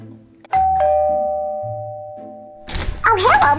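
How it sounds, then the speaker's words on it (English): A two-tone ding-dong doorbell rings out clearly and lingers on Halloween trick-or-treating, then a thud and muffled voices follow near the end. "I'm gonna ring the doorbell."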